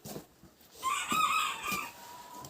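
A rooster among hens gives one crow, fairly faint and a little distant, over a quiet farmyard background.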